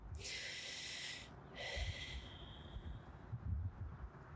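Deep breathing during a yoga pose, two long breathy airflow sounds close by, each lasting about a second, followed by softer quiet breaths.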